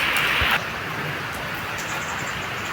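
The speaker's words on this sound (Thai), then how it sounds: "บรรยากาศตอนฝนตกเนาะ" Steady rain falls as a dense, even hiss, with a brief louder spatter at the start, heard alone without talk.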